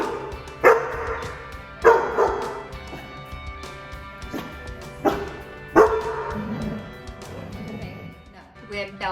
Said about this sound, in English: she was doing a lot of barking out of fear